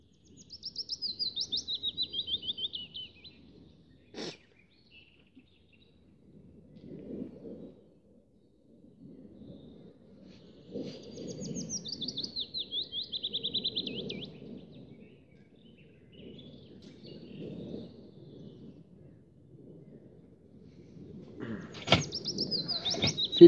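Several birds chirp and trill outdoors in high, bright bursts that come and go, with a few sharp clicks and low rustling handling noise between the calls.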